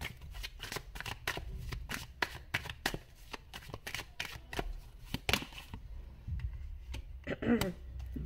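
Tarot cards are shuffled and drawn from a deck, a rapid series of crisp riffling flicks and snaps up close, easing into quieter handling toward the end.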